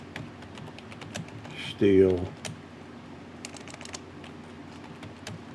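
Someone types on a computer keyboard: scattered, sharp key clicks come in quick bursts and short pauses, close by, and a voice briefly speaks partway through.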